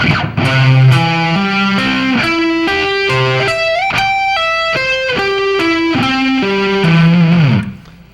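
A distorted electric guitar plays a rising and falling arpeggio, single notes ringing in an even rhythm before fading out at the end.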